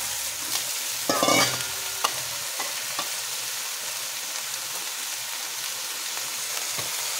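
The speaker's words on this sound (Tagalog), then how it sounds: "Gigisa na natin." Food is sautéed in a hot pan: a metal spoon scrapes and stirs sharply near the start, then a steady soft sizzle continues with occasional light clinks, no voices.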